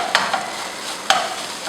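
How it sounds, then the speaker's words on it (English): Egg being broken up with a spatula in rice frying in a pan, a steady sizzle with two sharp scraping clacks of the utensil against the pan, no talk. "break up the egg"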